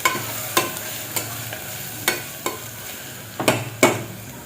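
Grated coconut sautéed in a pan for green chilli pulao, with a steady faint sizzle and a handful of sharp spoon scrapes and taps against the pan at uneven intervals, no voices.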